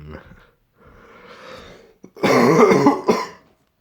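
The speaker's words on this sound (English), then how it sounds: "Just need to get rid of this really annoying cough." Coughing from someone recovering from a cold: a short faint cough, a quieter raspy breath, then a louder close burst of harsh coughing near the end.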